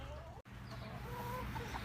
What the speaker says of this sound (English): We're headed out to take care of the chickens.